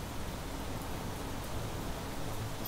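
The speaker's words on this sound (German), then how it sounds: "Schauen wir mal ordentlicher Regen hier, oder?" Steady, even rain hisses throughout in the survival crafting game Planet Crafter, a dense wash of falling water at moderate level with no voices over it.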